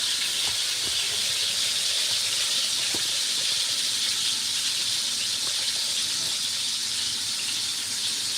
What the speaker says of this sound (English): I'm going to be burning or browning my turkey